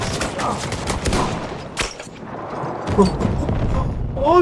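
Rapid bursts of gunfire from the video game Battlefield 1, set at Çanakkale (Gallipoli), crackle steadily throughout with heavy low booms and dense overlapping shots, fairly loud and close.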